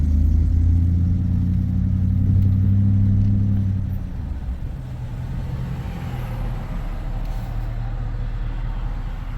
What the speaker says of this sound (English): I'm just pulling out at the main road.